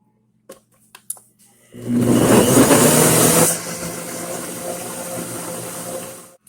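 A blender on low speed mixes a chocolate peanut butter smoothie, its motor kicking in after a few quiet knocks and then churning as a steady, loud whir that eases slightly but keeps running to the end.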